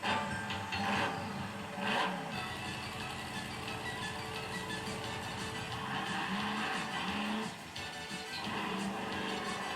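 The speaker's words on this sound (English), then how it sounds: "This is my truck, Big Dummy 3 monster truck." The Big Dummy 3 monster truck, 14,000 pounds, drives with a steady loud roaring engine drone and rough tire noise, sustained with slight surges throughout.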